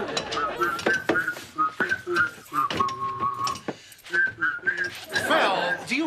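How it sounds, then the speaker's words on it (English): Someone whistles a casual, wandering tune in short bright phrases, close by, while faint clicks and light mechanical rattles sound underneath. "do you have to whistle like that while you work?"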